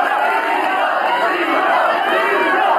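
A dense crowd at a Filipino rap battle event cheers and shouts continuously, a loud, sustained roar with no breaks.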